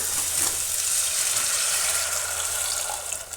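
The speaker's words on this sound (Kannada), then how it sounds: "ಕಾರ್ನ್ಫ್ಲೋರ್ ನೀರು ಅದನ್ನು ಇದಕ್ಕೆ ಹಾಕೊಂಡು ಬಿಡೋಣ" Cornflour water is poured into a pot of veg manchow soup, making a steady, close liquid pouring and splashing sound that tapers off near the end.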